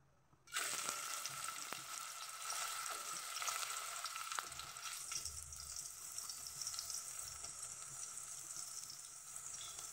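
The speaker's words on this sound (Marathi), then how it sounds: "कांदा व्यवस्थित परतून घ्यायचा" Onion hits hot oil for a goat mutton dish, and a loud sizzle bursts in after a brief quiet moment, then settles into a steady, bright hiss that carries on alone.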